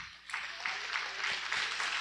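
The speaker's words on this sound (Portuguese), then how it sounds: "Aplauda bem forte ao Senhor." Church congregation applauding loudly, a dense continuous patter of many hands clapping together, steady from start to finish.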